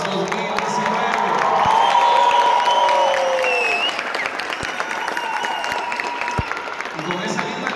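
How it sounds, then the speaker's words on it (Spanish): Graduation ceremony audience applauding graduates, a loud sustained wave of clapping with cheers that swells then gradually thins into scattered claps, voices mixed in. "Un fuerte aplauso para los graduados 2019."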